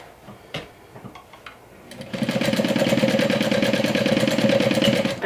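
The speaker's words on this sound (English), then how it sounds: "So I will stitch like 1 inch or so at the top." Sewing machine stitching across the top opening of a fabric bag: a few soft handling clicks, then a rapid, steady mechanical rattle of needle strokes, close and fairly loud.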